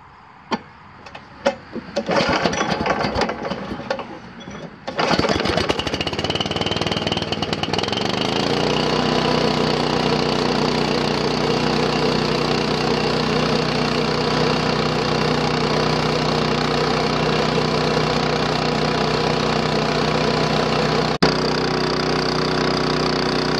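A Billy Goat outdoor power machine fitted with a forward discharge elbow is pulled and cranked a few times, then its small engine catches and settles into a steady, loud, continuous idle with no talking.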